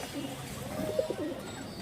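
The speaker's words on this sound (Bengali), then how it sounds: "চঞ্চল একটা মাদি কবুতর" A lively female Sabchila pigeon gives a soft, faint cooing murmur, a few low gurgling notes at middle distance over quiet background noise.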